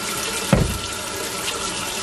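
Running water from a tap rinses a dry body brush. A short, close splash bursts over a steady faucet hiss in a brief two-second moment.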